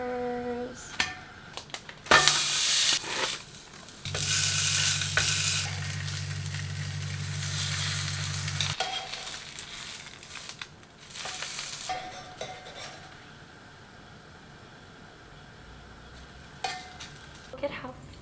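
Flaky malawach pancake layers fluffed and stirred in a hot pan, giving soft crackling sizzle in several bursts between quiet gaps, with a brief low hum partway through.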